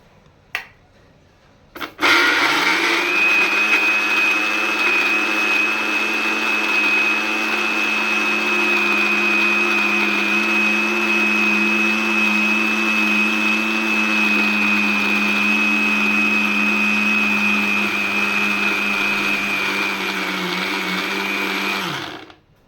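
A mixer grinder blends two halves of mango into paste, a loud steady motorized whir running continuously for about twenty seconds after a couple of brief clicks, then cutting off at the end.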